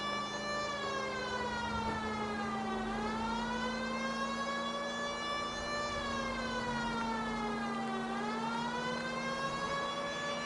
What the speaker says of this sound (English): Can you not hear the siren